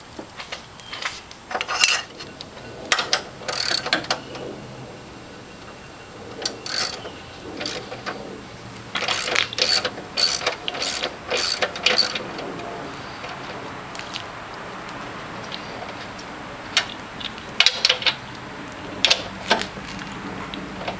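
A socket wrench turns an engine mount bolt on a Saturn S Series car, giving bursts of sharp ratcheting clicks in irregular runs with pauses between strokes, close and fairly loud, with no talking.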